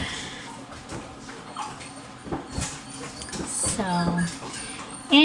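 Cockapoo puppies about four weeks old, one whining and whimpering over a toy, faint high cries scattered through a busy background with a person talking nearby.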